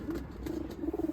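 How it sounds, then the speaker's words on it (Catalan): Young pigeons being released for their first homing flight give low, soft cooing calls close by, repeated over a short stretch without talking. "Vinga, deixarem anar els coloms perquè tornin cap a casa."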